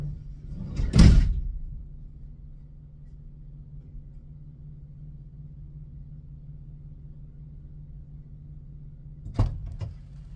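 A vehicle's side door is shut with a loud thud, then a quiet idling rumble follows for several seconds before a second sharper door knock near the end.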